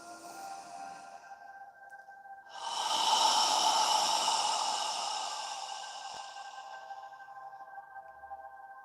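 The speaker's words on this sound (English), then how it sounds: "As you exhale, imagine you're fogging a mirror with your breath." One long, deep yoga exhale, a soft breathy rush that rises sharply, then slowly fades over several seconds against a steady background hum, with no talking.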